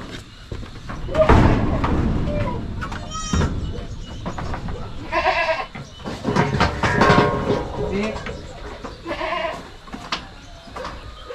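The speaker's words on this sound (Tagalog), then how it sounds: "Yung isa nating gwapong kambing andito sa loob." Goats bleat several times in loud, wavering cries on a farm, mixed with close clatter and someone talking over and between the calls.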